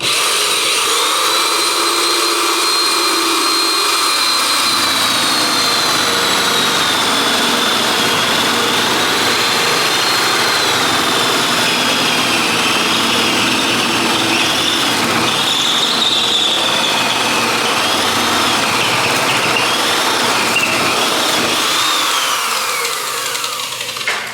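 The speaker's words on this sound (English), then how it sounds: "got my hole saw with my electric drill, not the cordless. And now I'm just gonna drill this hole" A corded electric drill with a hole saw grinding steadily through material, a loud whining buzz with squealing pitch shifts that run continuously.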